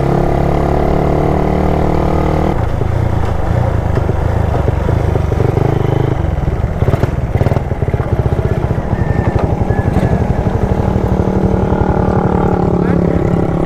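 Honda R150 motorcycle with an upgraded high-compression engine idling steadily through its exhaust, a continuous low burble with occasional revs, while people talk nearby throughout.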